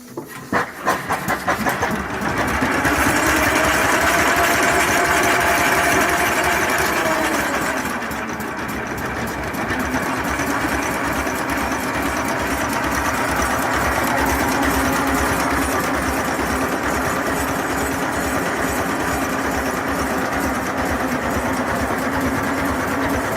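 The diesel engine of the Tahoma ferry air-starts with rapid chugging, then settles into a loud, steady idle. A dense low rumble continues throughout with no talk.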